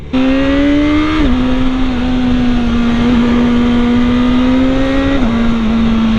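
A 2018 BMW S1000RR motorcycle engine screams loud and close, holding a high, steady tone with brief dips as it shifts up through gears.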